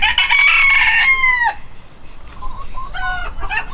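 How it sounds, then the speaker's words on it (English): A red rooster in a breeding flock crows loudly and close by, one long drawn-out call that breaks off sharply, followed by a few softer clucks and squawks. "So I've added a nice, actually my favorite red rooster."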